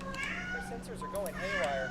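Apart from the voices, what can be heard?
cat meowing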